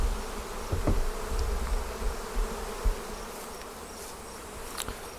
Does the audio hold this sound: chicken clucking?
no